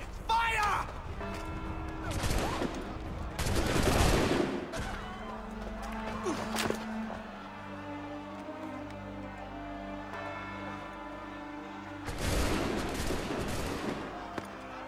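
Musket volley in Assassin's Creed III, several sharp gunshot cracks fired in bursts with echoing tails, interspersed with shouting voices and ambient street noise in colonial Boston.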